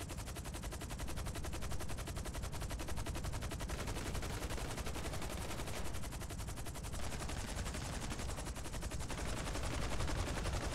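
Dense, continuous automatic gunfire from GTA V Online, rapid shots blending into a loud, unbroken rattle for the whole stretch with no pauses.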